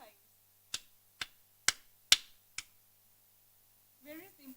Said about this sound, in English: you're just clapping continuously 5 times